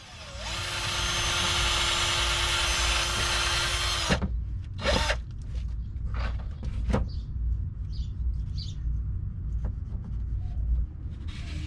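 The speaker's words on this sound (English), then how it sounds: "using rags, razor blades, and a Scotch-Brite wheel to make sure that the old gasket pieces are gone" A Scotch-Brite wheel whirs loudly and steadily for about four seconds on the differential mating surface of a Sprinter, then stops, leaving intermittent rasping scrapes of razor blades clearing old gasket pieces.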